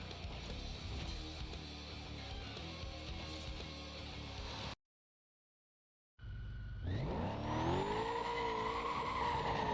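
A Corvette races in the video game Need for Speed: Most Wanted, a loud continuous engine roar with tire noise, cut by a sudden second-long silence, then returning with rising revving whine as the car accelerates.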